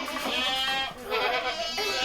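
Goats, including young kids, bleat on a goat farm: overlapping wavering bleats fill the clip almost without pause, near and fairly loud.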